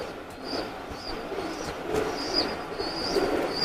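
Teddy pigeons cooing in a loft, soft repeated low coos over a steady hum of background noise, with no talking.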